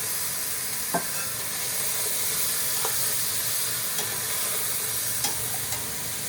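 Chopped onion and carrot fry in a pan for French beef stew, giving a steady, loud sizzle with faint scrapes and taps of stirring.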